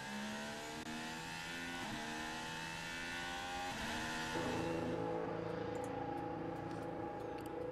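Formula 1 cars easing off during a qualifying session, engine notes steadily dropping in pitch and shifting down through gears, a continuous whining drone with no voices.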